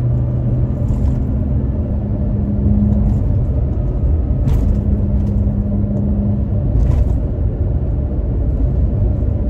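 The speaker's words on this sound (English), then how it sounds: "We're turning on to the roughest road near me." A Toyota Tacoma truck driving over a rough, bumpy road, heard from inside as a loud constant low rumble of road and engine noise, with a few brief knocks and rattles from the bumps.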